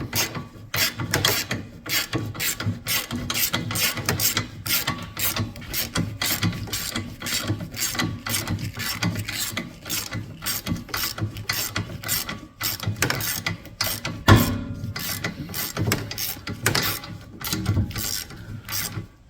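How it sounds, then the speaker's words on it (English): A 21 mm socket ratchet with a swivel and extension tightens the upper trailing arm bolt on a 2008 Pontiac G6, making a steady rapid clicking of the pawl in continuous strokes, close and loud for the whole stretch, with no talking. "I'm going to go ahead and tighten the upper bolt up."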